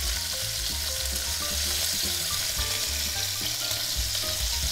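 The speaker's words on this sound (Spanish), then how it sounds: "vamos a echar aquí las costillejas. Las costillejas vamos a marcarlas solamente" Pork ribs sear in a hot pan with a loud, steady sizzle and crackle that runs unbroken throughout, with no voices over it.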